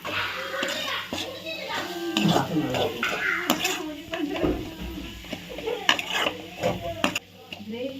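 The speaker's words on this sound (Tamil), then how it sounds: "இந்த வெங்காயம் நல்லா பொன்னிறமாக வதக்கணும்." Onions and green chillies sauté in a pan with a soft sizzle under repeated clattering stirs of a spoon against metal, while voices and children's chatter carry on nearby.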